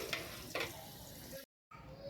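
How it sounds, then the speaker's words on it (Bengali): Potatoes fry in hot oil in a kadai with a soft, steady sizzle, broken by two spatula scrapes early on, then a brief cut to silence before the sizzling resumes. "এখানে কড়াইতে আমি আলু ভেজে নিচ্ছি"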